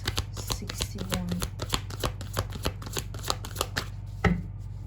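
Tarot cards being shuffled up close in a rapid, uneven run of crisp snapping riffles, with a heavier thump near the end.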